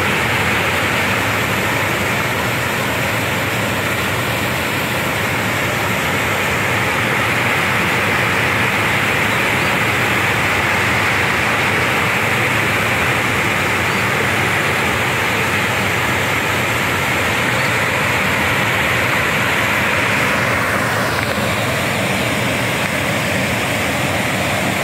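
Water rushes steadily along a stream ditch, a continuous, loud, even hiss of flowing current with no voices over it.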